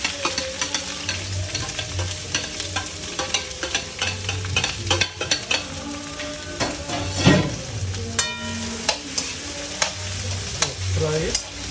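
Onion frying in mustard oil in a pan for pork vindaloo, a steady loud sizzle broken by repeated scraping stirs of a utensil against the pan, with no talking.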